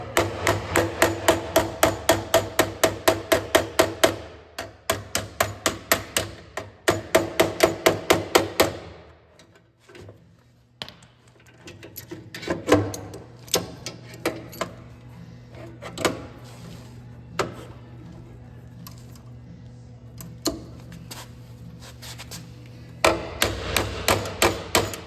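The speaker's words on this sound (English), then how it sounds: "Smaller ball peen and dolly action." A small ball peen hammer pounds a Jeep body panel against a dolly in fast bursts of sharp metallic blows, pauses for scattered lighter taps, then resumes rapid hammering at the end.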